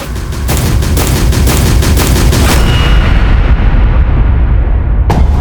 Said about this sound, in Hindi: अभी अभी स्कूल के अंदर से गोली चलने की आवाज आई है।